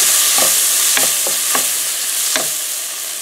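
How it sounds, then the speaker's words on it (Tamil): Ridge gourd sautéing in a pan with turmeric and cumin powder, a steady sizzle broken by several sharp scrapes and clacks of the spoon stirring at close range. "மஞ்சள் தூள், ஜீரகத்தூள் ரெண்டையும் சேர்த்து ஆட் பண்ணிக்கோங்க, அதையும் சேர்த்து இதோட வதக்கிக்கோங்க"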